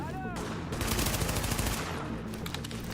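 Rapid gunfire from a video game weapon, a dense burst of shots that fills most of the moment at steady loudness, with a short electronic tone at the start and faint voices underneath.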